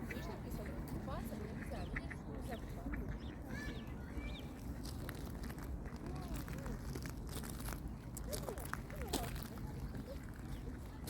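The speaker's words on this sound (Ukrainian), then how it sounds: "А зараз подивимося все-таки на качок і селезня" Ducks and a drake quack repeatedly in short nasal bursts over a steady outdoor hiss in a riverside park, with a person talking nearby through much of it.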